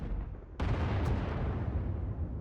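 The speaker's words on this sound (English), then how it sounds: "Sounds like the bombing's getting closer." A heavy explosion hits suddenly and rolls into a long, dense rumble that lingers, with a second blast layered in, from distant bombardment in Star Wars: The Old Republic on the war-torn planet Ord Mantell.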